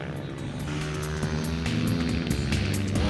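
Aprilia supermoto racing motorcycles battling for position on a track at a Supermoto Grand Prix in Busca, Italy, engines revving loud and close with shifting tones as several bikes scream past together.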